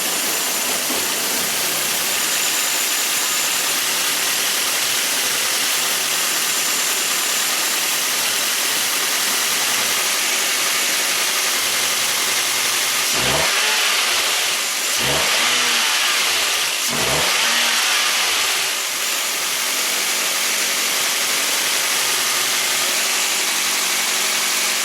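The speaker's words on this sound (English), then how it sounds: "I'm gonna rev the engine up a couple of times." A 2009 Nissan Altima 2.5 with a misfire fault idles roughly and steadily at close range, then is revved a few times in quick succession before settling back to idle, with no talk.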